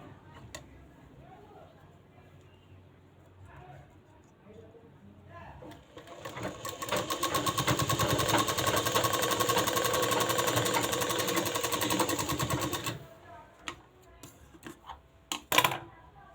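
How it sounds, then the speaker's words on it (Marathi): Domestic sewing machine stitching fabric after rethreading the needle, a fast rattling mechanical run of about seven seconds starting and stopping abruptly, with a few quieter clicks and knocks before and after. "आता आपण परत एकदा शिलाई करून बघूयात"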